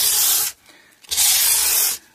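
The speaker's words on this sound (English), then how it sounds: "make sure that all of the frets get an equal amount of sanding" Frets on an Antoria Rock Star guitar are sanded in two long, loud, close abrasive strokes, each a steady rough hiss lasting about half a second to a second, separated by a brief quiet gap.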